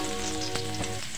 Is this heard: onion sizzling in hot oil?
yes